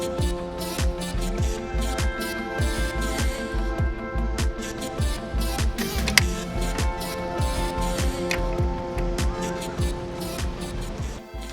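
A public bike ridden through Seoul gives off rapid, regular ticking and ratcheting from its gears and chain, close and steady over faint traffic noise throughout.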